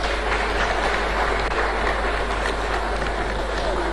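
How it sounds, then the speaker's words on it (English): An audience at a students' forum in Ghana applauds as a speaker comes forward: a dense, continuous wash of many hands clapping, steady and fairly loud for the whole stretch, with no clear voices. "A round of applause as he comes."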